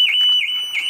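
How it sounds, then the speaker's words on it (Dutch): Car alarm going off, a loud, close, warbling electronic siren tone that rises and dips in quick repeating cycles, about three per second, with no talking. "Het alarm gaat af."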